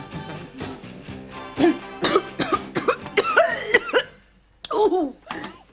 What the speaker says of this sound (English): coughing her lungs out